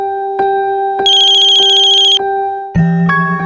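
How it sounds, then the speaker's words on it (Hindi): A loud electronic phone ringtone with steady tones and a rhythmic warbling ring pattern, close and clear, with no talking. "हेलो विक्रम, तुम फोन क्यों नहीं उठा रहे हो मेरा?"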